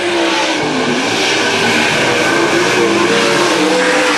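Race cars roaring around a speedway in green-flag racing, loud continuous engine drone with shifting pitch as cars pass, dense and close throughout.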